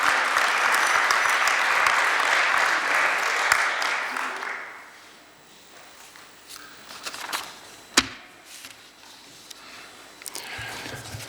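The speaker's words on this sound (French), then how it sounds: "Vous avez le droit d'applaudir." Council members and guests applaud at the installation of a new municipal council in Beaufort-en-Vallée, France. Loud, full clapping fills the room for about four seconds, then dies off into quiet shuffling with a single sharp knock.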